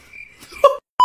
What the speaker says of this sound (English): Do you hear that beeping sound?